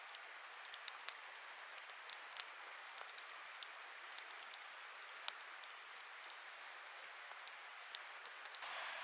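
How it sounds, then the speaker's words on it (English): Sharp irregular pops and snaps of a crackling campfire by a river at night, over a soft steady background hiss, scattered unevenly throughout. "And the crackle of the campfire."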